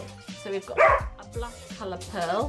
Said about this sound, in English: I do apologise for the dogs